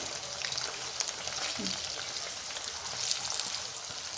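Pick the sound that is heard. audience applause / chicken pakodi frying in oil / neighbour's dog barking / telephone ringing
chicken pakodi frying in oil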